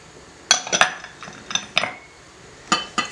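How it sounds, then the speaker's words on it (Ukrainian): Spoon or whisk clinking against a bowl while mixing eggs, sugar and orange zest for Italian biscotti, with several irregular bright clinks and scrapes close up. "і гарно ось так все перемішуємо"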